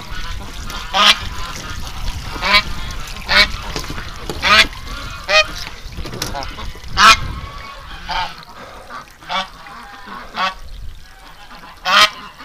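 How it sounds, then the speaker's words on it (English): A goose flying overhead honks repeatedly in loud, spaced calls outdoors, with some softer fowl calls in between and no talking. "Oh, I hear a goose coming over."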